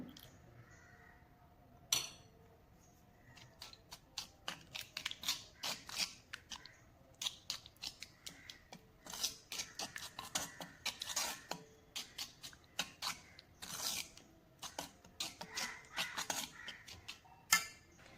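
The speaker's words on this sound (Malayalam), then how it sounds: "നമുക്ക് കുറച്ചുകൂടി ഇത് ഒഴിച്ച് കൊടുത്തിട്ട് ഒന്നുകൂടെ ഒന്ന് മിക്സ് ചെയ്ത് കൊടുക്കാം" Homemade hair dye paste for gray hair is stirred and mixed in a bowl, giving a long run of quick, close clinks and scraping ticks in an uneven, busy rhythm.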